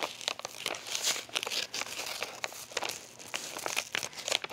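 Embroidery stabilizer is trimmed away from a design on knit fabric, giving close, quiet crinkling and rustling with irregular snips and crunches throughout.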